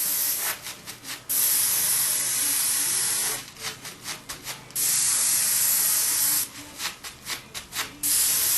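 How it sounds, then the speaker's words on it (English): Steady airbrush hiss sprays paint onto a Harley motorcycle tank in long continuous bursts, broken by short sputtering pulses between passes, close and fairly loud with no talking. "We're going to spray it and get it real wet."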